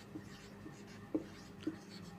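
A pen writes out a math proof by hand on paper, with faint scratchy strokes and a few sharper taps under a quiet background, close to the writer.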